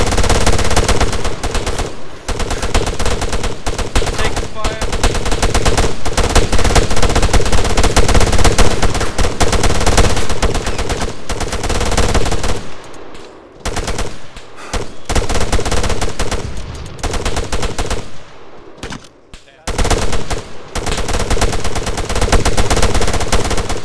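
Sustained automatic gunfire in the ArmA 3 military shooter during a town defense, loud continuous bursts of machine-gun and rifle fire with brief lulls near the middle, dense and close, no talk heard.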